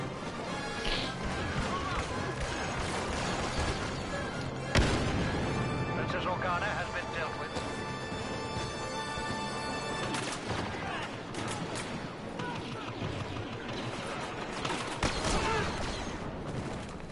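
Rapid rifle fire from a targeting rifle in a Star Wars shooter game, with dense repeated shots and crashing impacts and explosions layered throughout a busy, loud battle soundscape.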